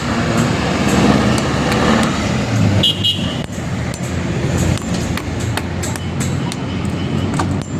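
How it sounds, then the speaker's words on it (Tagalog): A boom truck works at a construction site with road traffic nearby, giving a steady vehicle rumble with a sharp tonal ping midway and scattered clanks throughout. "At ang ating boom truck, ayan po."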